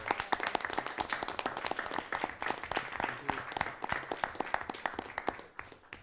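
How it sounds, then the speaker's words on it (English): An audience at a school board of education meeting applauds the parents of a team, a dense, steady patter of many hands clapping at moderate volume, fading slightly at the end. "Can we give the parents a round of applause for?"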